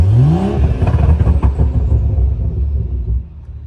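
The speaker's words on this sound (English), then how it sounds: "Revving does sound different." A BMW 440i Gran Coupe engine, tuned with MHD, revs up quickly, then settles into a deep rumbling drone that gradually fades, heard up close.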